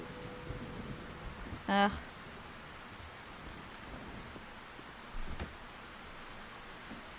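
Heavy rain pours steadily in Black Mirror III, a dense, even hiss throughout, with a brief groan from a voice and a faint low rumble.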